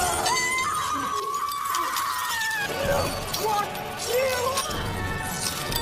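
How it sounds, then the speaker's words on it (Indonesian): Axe smashing into a glass mirror in a fantasy film scene about witch hunters, a bright shattering crash amid dense score and effects, with voices and a scream mixed throughout. "Jack langsung menghantam kapak ke arah kaca"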